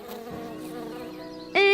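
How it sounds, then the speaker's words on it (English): A small insect buzzes close by with a steady, thin drone that holds for over a second before a sudden louder, sharper burst at the end. "Hey, Buzz, stop buzzing in my ears."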